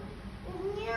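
A cat gives a single close meow, rising and drawn out, over a quiet background.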